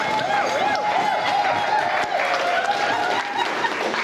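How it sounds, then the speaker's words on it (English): Wedding guests clapping for the bride's brother, a continuous loud round of applause with laughter and crowd chatter mixed through, close and sustained. "Let's give Botram a big round of applause. Keep the hands clapping."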